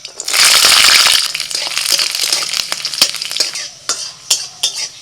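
Garlic, nigella seeds and dry chilli hit a little hot oil in a wok with a loud burst of sizzle, then settle into crackling and sharp scraping stirs close up.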